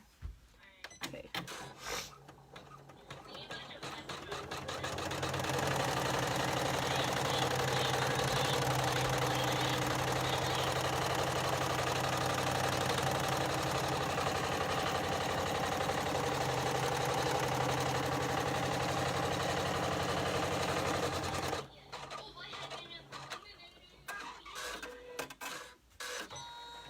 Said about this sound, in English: now it's trying to stitch our little smiley face that we already did